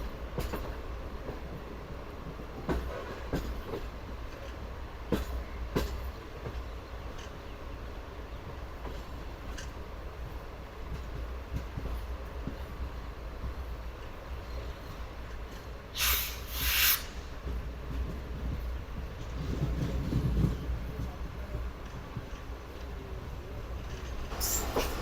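The Pakistan Business Express runs on rails in a steady low rumble with faint wheel clatter, recorded from on board or nearby, and brief high squeals near the middle, with no talking.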